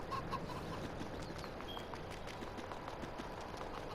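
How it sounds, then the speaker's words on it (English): Flocks of chickens and roosters in Farming Simulator 22 cluck softly in a faint, busy barnyard ambience, with scattered short calls over a low background bed. "this is the one with the 10 6-month-old chickens and 5 roosters, still 15 animals"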